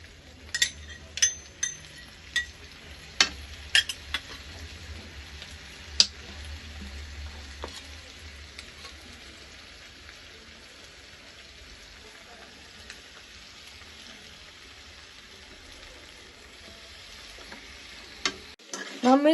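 Pasta with sauce and soy sauce is stirred in a pan, giving a low continuous sizzle with sharp spoon scrapes and clicks against the pan, busier at first and quieter later, with no talk.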